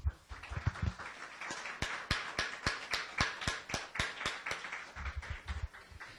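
A congregation claps in church after a pastor's call to praise God: a fairly faint, irregular run of distinct handclaps, a few people clapping rather than a dense crowd.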